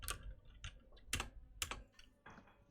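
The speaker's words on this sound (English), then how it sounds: "Everybody, just enjoy some Liz keyboard ASMR." Computer keyboard typed in close, quiet ASMR style, a handful of crisp, irregular clacks and taps with soft gaps between them and no talking.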